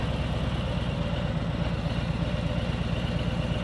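A motorcycle engine idles steadily with a low, even rumble while the bike is turned and leaned with no throttle or clutch.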